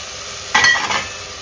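A spatula scrapes and stirs mushrooms and green peas in a frying pan, one brief burst of stirring and sizzling that rises out of a quiet background and then fades.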